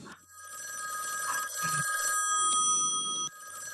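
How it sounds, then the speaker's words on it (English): A telephone rings in a radio drama, a steady, bright electric bell that keeps ringing through the clip at moderate volume with no voices over it. "That is the telephone ringing, isn't it?"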